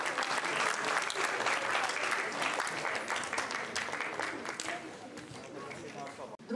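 An audience applauds award winners called to the stage at a final of a military and patriotic song contest, dense steady clapping that stays loud throughout and eases slightly near the end.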